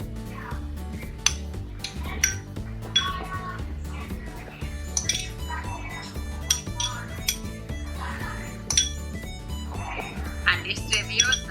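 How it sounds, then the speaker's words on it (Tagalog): A knife works through pork cubes for a Filipino humba pata recipe, giving a steady run of sharp clicks and clinks of blade and utensils on a board or dish, close and fairly loud. "So I slice the pork cubes."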